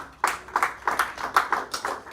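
A church congregation claps in rhythm for Jesus during a sermon, a string of roughly ten sharp, evenly paced claps at moderate distance, fairly faint in the room.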